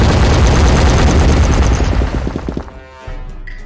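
A loud AWM sniper rifle shot in a video game rings out amid dense, sustained gunfire and booms, then fades into a quieter tail near the end.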